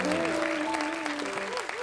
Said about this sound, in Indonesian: Tepuk tangan semuanya, tepuk tangan untuk malam ini.